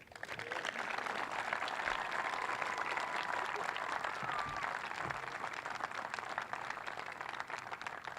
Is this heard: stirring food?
no